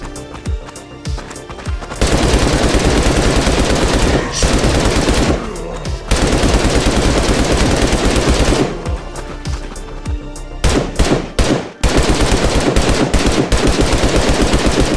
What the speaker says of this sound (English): For each weapon, I layered various elements, including LFE, mechanical, and mid-range reflection layers, just to get that overall punch and presence I was going for.